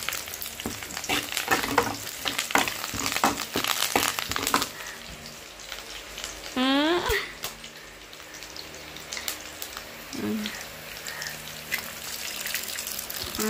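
Curry leaves and egg frying and being stirred in a hot pan, a steady loud sizzle with scraping stirs and a brief rising squeak partway through, no talking.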